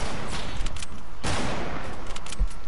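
Rapid bursts of video game gunfire from multiple shooters at once, dense overlapping shots rattling continuously, with a sharper loud burst midway.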